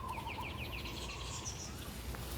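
Birds around a hole on a golf course at Casa de Campo give a quick series of repeated chirps, fairly faint over steady outdoor background noise, with no talk.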